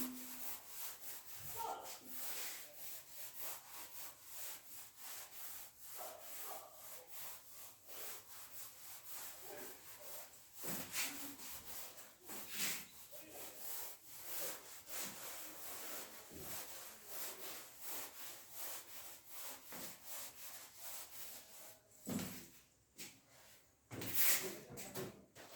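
An eraser rubs out writing on paper in steady back-and-forth strokes, a dry scratchy scrubbing that continues close to the microphone with brief pauses and a few louder strokes near the end.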